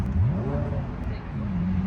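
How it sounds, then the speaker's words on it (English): A Ferrari revs at a cars-and-coffee meet, its engine note climbing in a quick rising sweep and then settling into a steady mid-pitched drone, fairly close and loud over outdoor crowd murmur. "And there's a Ferrari revving."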